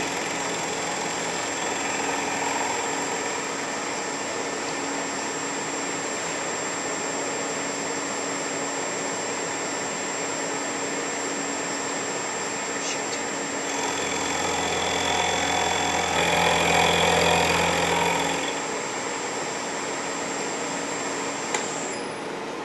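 A milling machine cuts the second side of a metal block to remove bandsaw marks, a steady mechanical whir with a louder grinding surge near the end, no voices.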